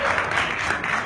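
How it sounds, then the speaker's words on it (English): Audience applause at a live stage event with a celebrity host, a steady wash of clapping from a crowd that carries evenly through the moment without a break. "Can we have a louder round of applause"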